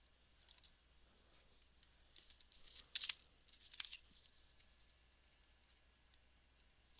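A few quick, crisp snips of scissors cutting paper, faint and close, in an otherwise quiet room.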